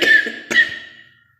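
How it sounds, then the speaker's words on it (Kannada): Two sharp, close coughs about half a second apart, each fading quickly into silence. "ಕೆಮ್ಮು"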